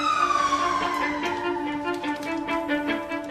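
An ambulance siren wails as it brings an emergency in to a hospital, a loud falling tone that settles into a steady two-pitch pattern with background clatter.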